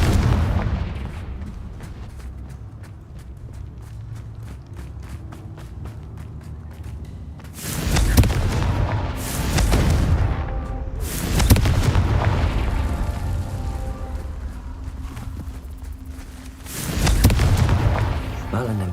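Confringo fire-spell explosions from Hogwarts Legacy, several loud booming blasts with long rumbling tails that arrive in bursts after a quieter stretch, with a voice speaking in between.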